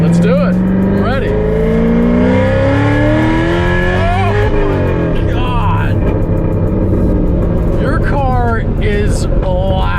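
An upgraded car with a bigger supercharger blower revs hard, its engine note rising and falling through loud throttle blips with a whining blower over the rumble, while excited voices shout nearby.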